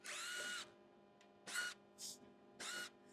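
A power driver spins out T25 screws holding the grille on a Honda Ridgeline, giving three whirring bursts of a few tenths of a second each plus a short blip, separated by quiet gaps, close and otherwise silent.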